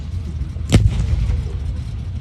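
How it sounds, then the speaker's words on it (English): Artillery fire at a World War II re-enactment event, a single distant boom that lands briefly amid low outdoor rumble. "The Allies have brought some artillery to bear."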